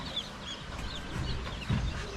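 A hen clucks softly a few times close by, with low, irregular clucks over quiet outdoor background.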